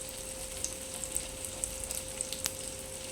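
Potato pieces cook in oil in a pan, a steady soft sizzling hiss with scattered small pops and crackles, close and unaccompanied by speech.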